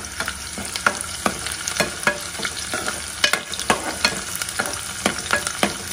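Chillies sizzle in hot oil in a pan before okra goes in, with a continuous fry hiss broken by regular scraping stirs of a spoon against the pan.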